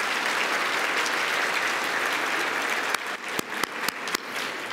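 Sustained applause from an audience for four finalists at an innovation awards event, dense and steady, thinning toward the end into a few scattered final claps.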